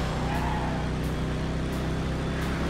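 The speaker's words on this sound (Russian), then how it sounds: "Трафика куча, хотя сегодня еще нормально." Road traffic in the racing video game Midnight Club: Los Angeles, a steady, dense engine drone with the rush of nearby cars and a low rumbling bed throughout, heard alone.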